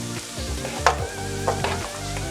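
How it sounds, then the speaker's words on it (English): Onions hit a hot pan and sizzle steadily, with a few sharp stirring clacks and scrapes punctuating the close, continuous frying hiss. "we're gonna go ahead now and add our onions"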